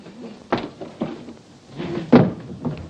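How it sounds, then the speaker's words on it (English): A door swings open and shut, giving several knocks and thuds at irregular intervals, fairly close and loud, with no voices. "come in, don't stand there waving the door about"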